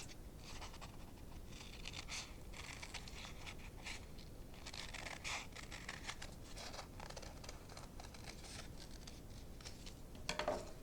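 Scissors cut through paper for a Thanksgiving turkey craft, a series of soft, close snips and crinkly rustles spread across the stretch at low volume with no talking.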